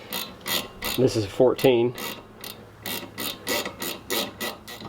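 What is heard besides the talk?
ratchet wrench tightening brake caliper bolt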